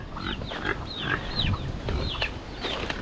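Pigs squeal and grunt continuously at close range, with overlapping high-pitched cries over a busy farmyard background.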